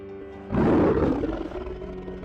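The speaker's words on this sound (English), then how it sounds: "Delphina [[followed the sound of the mighty lion's roar]]." A lion's roar sound effect in a planetarium show swells suddenly after a quiet moment, loud and close, then fades slowly into a lingering rumble.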